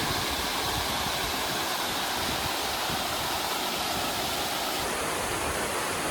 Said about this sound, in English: Definitely a good sized waterfall.